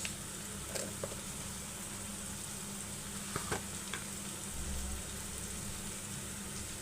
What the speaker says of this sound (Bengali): এগুলোকে ভালো করে নাড়াচাড়া দিয়ে নিচ্ছি